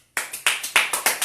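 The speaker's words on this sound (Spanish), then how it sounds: "Dale un aplauso al Señor." Clapping at a church service, several sharp, close hand claps in an uneven rhythm, starting after a brief silence, with no voices.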